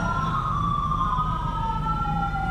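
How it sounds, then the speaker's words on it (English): Out-of-tune emergency sirens in GTA V wail steadily, with two slightly clashing tones sliding slowly downward over a low, rumbling engine-like drone and no talking. "Ooh, I heard sirens then."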